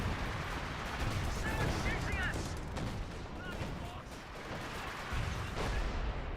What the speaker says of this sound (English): you're dropping the off map over here with your concentrated barrage